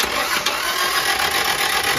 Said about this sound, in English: That engine spins nice and easy.